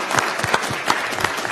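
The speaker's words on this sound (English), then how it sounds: "I think we'll just give everyone a round of applause that's been here tonight." An audience at a question time event applauds, a dense and steady burst of many hands clapping close by, brief and fairly loud, with no clear talk over it.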